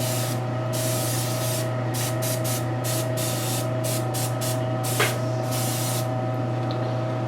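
Constant hum and airflow of a heat gun being used on a custom painted statue, with a steady low drone and small intermittent hissy bursts, close and fairly quiet, no talking.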